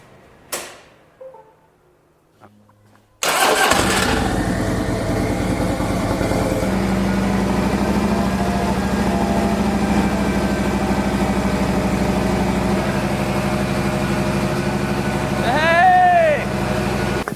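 After a few quiet clicks, a motorcycle engine abruptly starts and settles into a loud, steady idle that continues throughout, with a brief rising whine near the end; the motorcycle is powering a heater and mini fridge.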